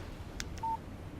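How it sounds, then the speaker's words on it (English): A mobile phone gives a text message alert: one short, clean electronic beep, preceded by a couple of faint clicks against quiet background hiss. "Text message from Barry."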